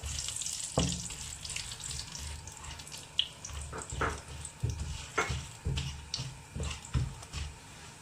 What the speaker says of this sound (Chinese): 将香料倒入里面， 翻炒出香味儿